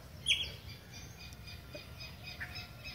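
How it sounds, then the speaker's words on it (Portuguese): A great kiskadee (bem-te-vi) gives a single sharp, bright squawking call near the start, outdoors over low background rumble, with a few faint chirps afterward. "É Bem-te-vi, já deu o sinal."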